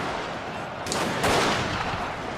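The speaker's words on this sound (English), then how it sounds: "Let's take a look at what they look like there as they're shooting." Musket volleys crackle in a large Shogun 2 Total War battle between Satsuma and Tosa armies, a dense wash of distant gunfire and rumble with a couple of sharper bursts, steady and loud throughout.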